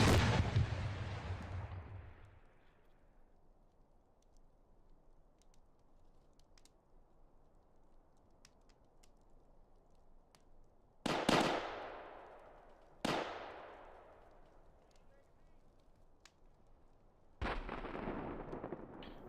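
Heavy gunfire and artillery in a military video game: a loud broadband blast opens, followed by a low rumbling lull and three more sharp booming reports that trail off, each standing alone without talk.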